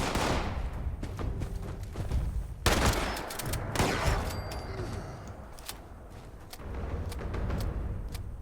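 Shotgun blasts and other gunfire in the video game Fallout 76, with a loud sharp shot near the start and another around the middle, followed by scattered bangs during a wave-based event.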